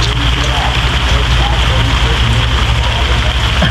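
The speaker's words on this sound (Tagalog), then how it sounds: "Yan, ambon, bagyo na." Steady drizzle hisses evenly on surrounding surfaces as a storm moves in, a dense unbroken patter that holds the whole time with no clear voices over it.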